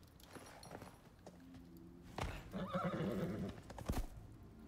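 A horse in the Icarus survival video game gives a loud, drawn-out whinny, with clip-clop hoof steps and a few thuds around it and no talking.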